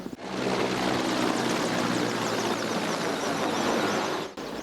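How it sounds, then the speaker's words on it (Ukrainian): Six helicopters flying low over a memorial alley, a loud continuous rotor and engine roar with rapid blade chop that stays strong throughout before cutting off abruptly. "Над алеєю слави пролетіли шість гелікоптерів."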